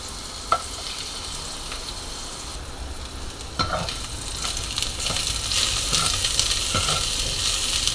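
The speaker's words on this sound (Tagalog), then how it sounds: "Isa muna natin ng maayos ang luya hanggang mag-aromatic" Ginger sautéing for arroz caldo, a steady close sizzle of frying in oil with occasional stirring clicks and scrapes, growing slightly louder over time, no voices.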